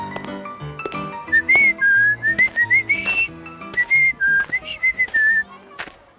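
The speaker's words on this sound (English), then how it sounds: "Let's imagine we're meeting him now, to the sound of Steamboat Willie, Mickey's very first animated short." A melodic whistled tune from Steamboat Willie, the first animated Mickey Mouse short, plays in clear phrases over a light instrumental backing with no talking.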